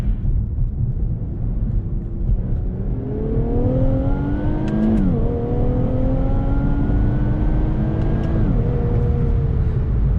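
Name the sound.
VR30 engine car accelerating during a quick pull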